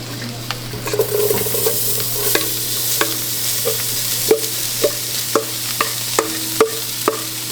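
Holy trinity vegetables hiss loudly in a dark roux for Louisiana seafood gumbo, a steady close sizzle broken by regular clacks and scrapes of a spoon stirring the pot.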